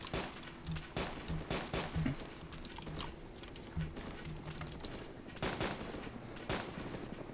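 Rapid bursts of gunfire in the DayZ survival game, several clusters of sharp cracks spread across the stretch, moderately loud over a steady background hum, with no talking.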